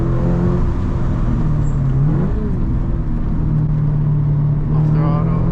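A Toyota GR86 flat-four engine hums steadily from inside the cabin, rising in a brief rev blip and hanging before easing back, with someone talking over it.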